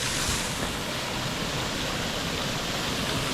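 A large public water fountain in Plovdiv sprays heavily, a steady close wash of falling water and hissing spray that never lets up, with no voices.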